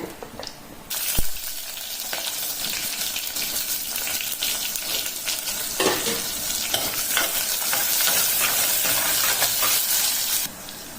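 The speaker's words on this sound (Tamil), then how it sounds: "சோம்பு நல்லா பொருந்துட்டுங்க இப்போ வெங்காயத்தை சேர்த்துக்கிறேன்" Onions and spices such as fennel, cardamom and star anise fry in a pan of oil for a kurma, giving a loud, steady sizzle with stirring scrapes throughout, no voices.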